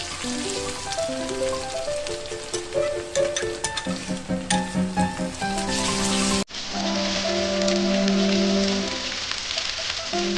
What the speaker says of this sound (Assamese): এতিয়া মই দি দিম আদা নহৰু পেষ্ট আৰু এইখিনি অকণমান সময় ভাজিম।